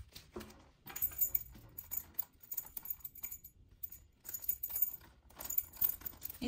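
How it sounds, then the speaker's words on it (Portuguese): A small bunch of keys jangles and clinks in irregular bursts as it is slipped into a sewn zipper keychain pouch, close and fairly quiet, with soft handling noises between. "E também pode colocar sua chave."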